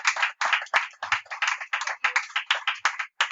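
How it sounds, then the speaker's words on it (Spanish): Worshippers at a church service give a strong offering of hands, clapping in a quick rhythmic pattern of distinct sharp bursts with short gaps between them. The clapping is close and loud, with no talking over it. "Dale una fuerte ofrenda de palmas"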